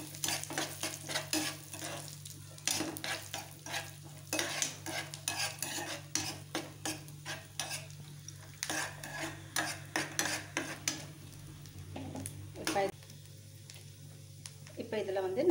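Chopped almonds and cashews roast lightly in a pan with a soft sizzle and busy, rhythmic scraping and clinking of a spoon, while a voice talks over it at times.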